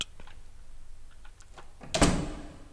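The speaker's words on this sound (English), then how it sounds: "Hey, that shut the door on me." A door shuts with a single loud thud in an indie survival horror video game, after a few soft clicks and taps and a moment of quiet.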